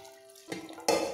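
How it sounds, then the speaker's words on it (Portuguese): Water pours into a cooking pot of chicken with tomato sauce, a short quiet clink followed by a sudden louder splash and gush close by. "E aqui eu vou colocar a água."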